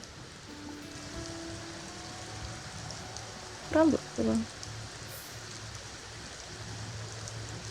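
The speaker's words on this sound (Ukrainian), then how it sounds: "Дощ іде." Rain falling steadily in The Sims 4, a soft continuous hiss of drops heard at moderate level throughout, with brief voices and a short game sound partway through.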